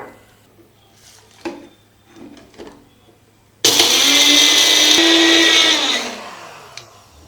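A mixer grinder roars to life, whirring loudly at high speed for a couple of seconds while grinding spices for Madurai-style mutton chukka, before winding down, after some light clinking beforehand.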